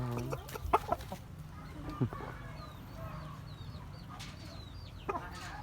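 Thai Chon breed chickens cluck and chirp close by in a farmyard, with scattered short calls and a few louder squawks over steady background noise.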